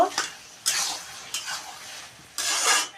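A spoon stirs rohu fish head curry with pumpkin and Malabar spinach in a pan after roasted cumin powder goes in, giving a few separate scraping bursts of metal against the pan with quiet pauses between them.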